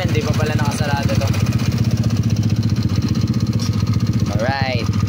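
A 196cc balance crank engine with an exhaust pipe and a replacement exhaust gasket runs at a steady, loud, fast idle that chatters throughout, with brief bursts of voices over it.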